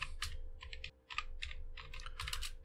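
Code being typed on a computer keyboard, quick bursts of close, crisp key clicks with a brief pause partway through, no talking.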